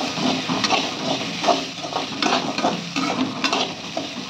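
Shallots, garlic and ginger sauté in a hot pan with a continuous close sizzle, broken by repeated scraping and tapping from the stirring spoon. No one speaks.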